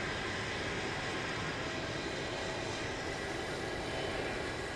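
A jet airliner taking off at Houston Intercontinental airport, a continuous broad engine roar held steady and fairly loud throughout, with no voices.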